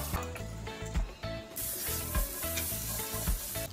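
Zucchini hitting hot oil with mustard seeds, asafoetida, curry leaves and green chili for a South Indian style sabji, a loud continuous sizzle and spatter close up, with no talking.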